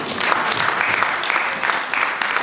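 A congregation applauding the Lord during a church service, steady loud clapping that fills the whole moment without a break.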